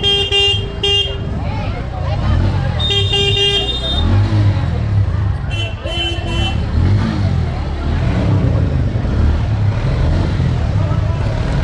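Busy festival-day road traffic near Anantapur, with several sharp car horn toots standing out over a steady rumble of engines, close and loud, while people talk throughout.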